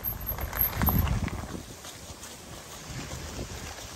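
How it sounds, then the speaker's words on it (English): Low, rumbling wind buffets the microphone, strongest in the first second and a half, then settling into a steady gusty roar with faint thumps. "It's probably really windy."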